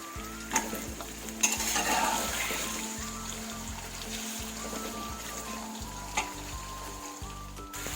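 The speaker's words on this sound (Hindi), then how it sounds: "पाँच मिनट हो गए हैं मुझे यहाँ चिकन को भूनते हुए।" Steady hiss and crackle of chicken frying in hot oil in a karahi, continuous and close, with occasional stirring clatter and no talking.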